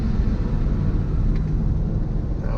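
Garbage truck outside a window, a steady low engine rumble and drone heard from indoors at moderate distance, continuous with no talking.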